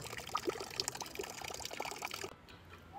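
Water pouring from a free public drinking fountain on a street in Milan, a continuous splashing trickle with scattered street noise, close by, ending abruptly near the end.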